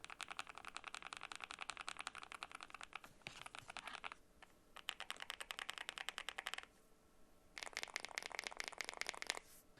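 Rapid typing on a Nuphy Kick75 low-profile mechanical keyboard, bursts of dense, crisp key clacks close to the mic, broken by short pauses, with no voices.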